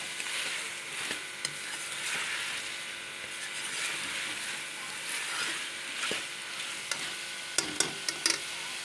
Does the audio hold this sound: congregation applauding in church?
no